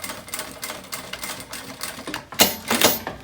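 A domestic sewing machine backstitches while a tote bag is sewn, giving quick bursts of rapid mechanical chattering and clicking up close, in short repeated runs with a louder final push.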